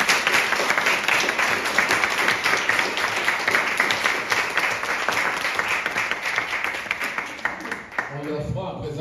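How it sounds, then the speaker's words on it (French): An audience at a tribute gathering gives a long round of steady applause, dense rhythmic clapping from many hands that continues for several seconds before thinning out, with a voice beginning at the end. "j'aimerais qu'on donne une bonne main d'applaudissement"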